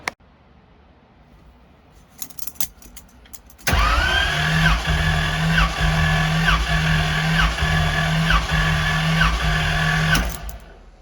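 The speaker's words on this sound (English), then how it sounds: "I'm gonna crank it over without any spark plugs in it" A new LS engine with no spark plugs fitted, in a 1971 Camaro, cranks over for several seconds, a loud steady whirring starter grind with an even rhythmic pulse, starting abruptly and cutting off after a few faint clicks.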